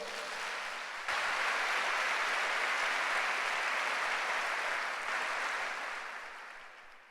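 A church congregation at a congress gives sustained applause, a broad steady wash of clapping that swells after a second and slowly tapers off, heard at a distance and without speech.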